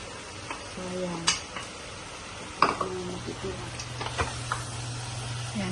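Garlic and onion sautéing in a pan in a home kitchen, a soft steady sizzle under scattered metallic clinks of a spoon and pot, with a person talking over it.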